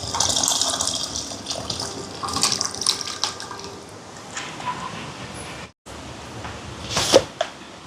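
Tamarind water pours in a steady splashing stream into coconut milk rasam in a pan, a continuous liquid rush that fills the clip with a brief pause near the end.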